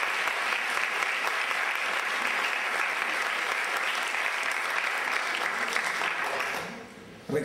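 Steady audience applause at a university event, a dense wash of many hands clapping at even loudness for about seven seconds before it tapers off sharply at the end.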